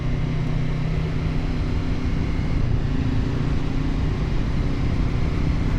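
A QJ Motor SRT 450 RX adventure bike being ridden at speed on the road, a continuous loud engine drone mixed with rushing wind, steady throughout with no talking.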